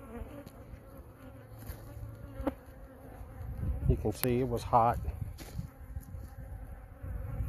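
Honey bees hum and buzz around hives on pallets at close range, droning steadily while a person speaks briefly over the insect noise.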